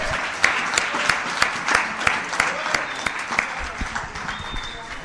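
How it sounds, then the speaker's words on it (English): Audience applause for the organising committee at a Fellowship of the Spirit weekend gathering, a steady patter of clapping with scattered sharper claps rising and easing over several seconds, fairly close, with some voices mixed in. "So let's all give them a round of applause."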